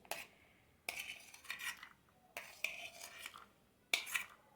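Dry fruits and raisins being mixed into plum cake batter with a spoon, heard as quiet bursts of scraping and clinking against the bowl that come in four separate strokes with soft pauses between them.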